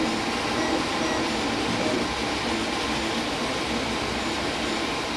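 A 3D printer, an Ender 3 or Anycubic Chiron, runs with a loud, steady mechanical roar and whir that holds even and unbroken throughout, with no voices.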